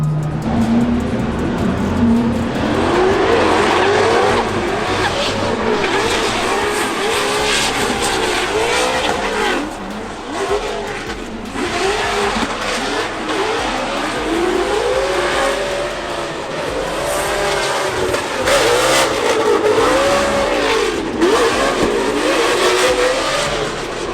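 A BMW E36 lapping a race track roars loudly and continuously, its engine repeatedly revving up and dropping through gear changes, with faint tire squeal.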